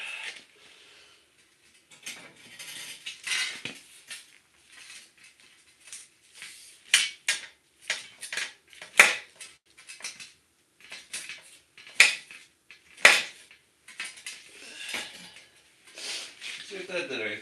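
Metal tools crank and clank on a klunker bike build on a cold New England night, a run of sharp knocks and ratcheting clicks in uneven bursts, close up, with occasional voice.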